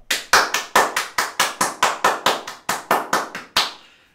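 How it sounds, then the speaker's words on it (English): About fourteen sharp hand claps in a steady, fairly quick rhythm, close and loud, with no other sound around them. "Clap it up."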